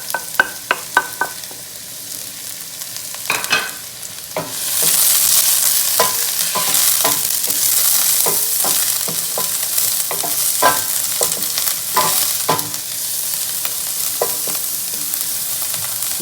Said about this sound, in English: Put in with our olive oil. Onions. Put the garlic in as well.